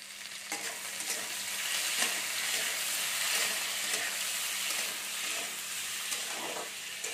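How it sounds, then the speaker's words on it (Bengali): Potatoes fry in a hot pan with salt and turmeric added, giving a loud, steady sizzle, while a spatula stirs them in repeated scraping strokes. No speech. "আর এর মধ্যে আমি একটু নুন আর একটু হলদি দিয়ে দেবো সামান্য পরিমাণে, দিয়ে একটু নেড়ে নিচ্ছি।"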